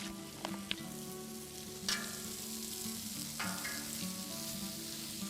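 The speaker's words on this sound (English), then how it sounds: "First, we're going to start with 4 slices of bacon. Got to get your bacon going first because it takes the longest." Four bacon slices frying on a flat griddle sizzle steadily at a soft, close level, with a few sharp pops and spatula scrapes and no speech.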